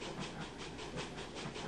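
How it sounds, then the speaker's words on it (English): A train passes in a Second Life theme park, its low rumble and hiss carrying a steady rhythmic clatter, faint and continuous with no voices. "maybe it's because the train was coming, like, right at that moment."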